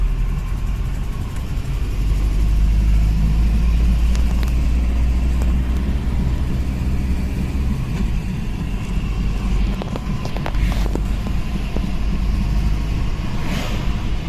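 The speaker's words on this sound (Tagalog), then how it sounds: "Medyo traffic tayo." Slow road traffic near the La Union–Ilocos Sur boundary, a continuous low engine rumble and idling hum from vehicles close around, with occasional passing swells and no talk.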